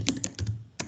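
Quick keystrokes on a computer keyboard, a few close plastic clicks in under a second ending with a firm press of the Enter key, in a quiet room with no talking.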